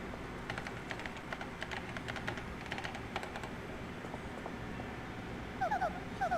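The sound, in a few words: typing on a keyboard in video game Paper Mario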